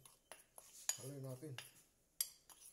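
Fish batter with cornstarch stirred in a bowl with a utensil, making a few light metallic clinks and scrapes against the bowl and a brief low rubbing scrape in between, quiet and close.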